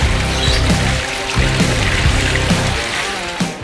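Running tap water pours steadily as catfish are washed and cleaned before cooking, a loud continuous splashing stream with faint knocks of handling underneath and no speech.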